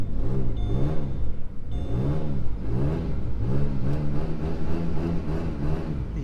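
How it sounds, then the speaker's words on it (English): A car engine with an exhaust leak revs repeatedly in rising and falling surges, loud and close, with a ticking, raspy edge and no voices. "Hear that exhaust leak?"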